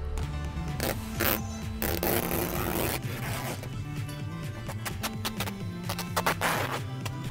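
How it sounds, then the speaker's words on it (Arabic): Adhesive tape being pulled off the side of an old mattress during a repair, a continuous close ripping and tearing with several sharper bursts of stripping across the whole stretch. "كنحيد السينتا او الباندا اللي كتكون لاصقه في الجناب ديال المضربه"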